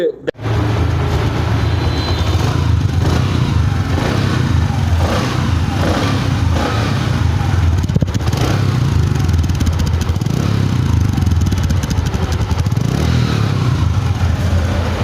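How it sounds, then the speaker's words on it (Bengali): A Bajaj Platina motorcycle engine starts and runs at close range, idling with a steady low rumble and mechanical clatter, then revving and rising at intervals for about fifteen seconds. "তো বাইকটা যদি স্টার্ট দেই"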